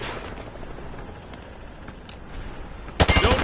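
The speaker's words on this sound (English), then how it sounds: "Grab that weapon off the table and fire at the targets behind you." Gunfire at range targets: rapid bursts from a weapon fired from the hip, beginning abruptly after a stretch of quiet room noise and rattling off loud and close.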